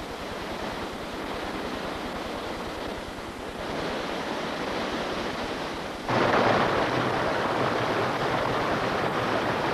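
The Zambezi River flowing in a broad, continuous watery rush, steady and moderately loud, growing fuller and louder partway through, with no voices.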